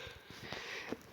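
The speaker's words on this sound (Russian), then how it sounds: "Сейчас чихну." A person sneezes abruptly at the very end, a single loud burst after a stretch of quiet, low background noise during a Brawl Stars gaming session.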